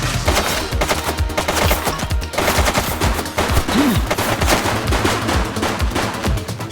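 A suspect fires a gun in The Precinct, rapid loud shots in quick bursts over a busy scene with other noises mixed in, and no voices heard.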